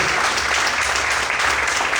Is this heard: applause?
yes